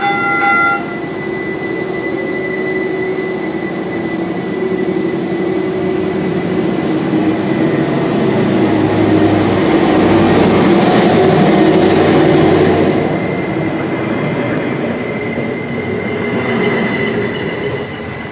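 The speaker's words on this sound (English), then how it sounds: "Attention, le train de la ligne 2 en direction nord" An O-Train Line 2 train pulls into a station, a loud steady rumble of wheels and motors with a long rising wheel squeal and sustained tonal whine throughout.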